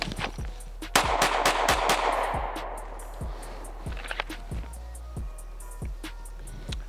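A handgun fired from 5 yards sends out a quick string of sharp, loud reports at a range, roughly evenly spaced, with echoes trailing each shot. Faint reports from other firing can also be heard.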